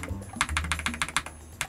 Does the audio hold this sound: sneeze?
no